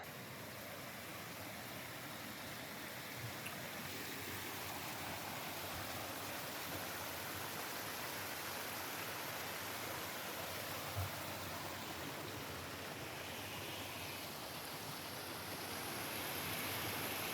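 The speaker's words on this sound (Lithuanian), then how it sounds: "Yra kriokliukas. Toks nedidelis, bet gražus." A small waterfall on a hiking trail in Switzerland, a steady broadband rush of falling water, constant and fairly close, without speech.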